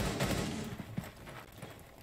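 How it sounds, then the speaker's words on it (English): Gunfire in a Rainbow Six match: a few muffled, distant shots and short bursts pop irregularly over a low game background. "we're starting to hear some gunfire"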